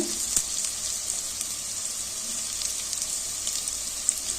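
Rice fries lightly in a pan for a coriander-mint green pulao. A steady, even sizzle hisses close by, with occasional small clicks and pops and no talking.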